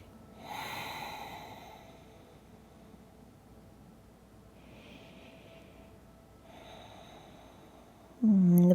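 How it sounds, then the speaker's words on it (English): Slow, quiet breathing through the nose during a forward-bending yoga stretch, with a few soft, drawn-out breaths separated by stillness and a louder rush of air at the very end. "make the exhale longer than the inhale, all through the nose"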